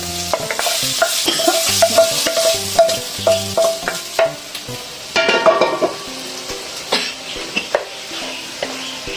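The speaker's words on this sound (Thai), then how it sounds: "ผัดจนหมูสุกจ้า" Continuous sizzling as pork is stir-fried in a hot pan, with a spatula scraping and clacking against the metal in an irregular rhythm, close up and fairly loud.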